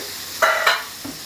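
Tomatoes frying with onions in a pan for chicken pulao, stirred with a spoon, giving two short bursts of scraping sizzle followed by a faint clink, close and alone.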